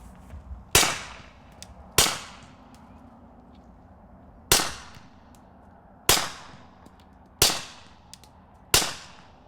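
Six suppressed gunshots from a rifle fitted with a tiny BOE 9S 4-inch suppressor ring out alone at irregular intervals, each a sharp loud crack with a short decaying tail over a faint background.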